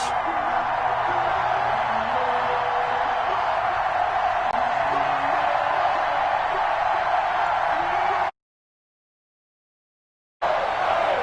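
Stadium crowd at a December NFL game between the Carolina Panthers and the New York Giants, just before kickoff: a loud, steady, dense roar that cuts out briefly, then returns.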